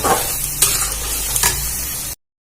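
Ground tomato paste sizzles in a hot pan while being stirred, with a couple of brief scraping strokes before the sound cuts off.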